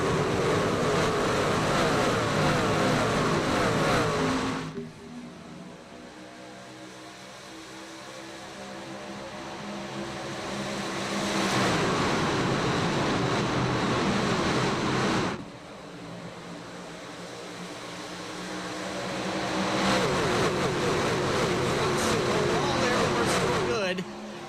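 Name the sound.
truck racing engines in iRacing video game, Pocono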